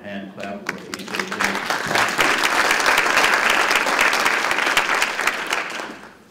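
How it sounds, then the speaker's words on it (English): An audience breaks into applause at a homelessness housing event, starting with a few scattered claps, then swelling into a sustained, fairly loud round of hand clapping before fading out. "give yourselves a pat on the back or a hand clap for HHH"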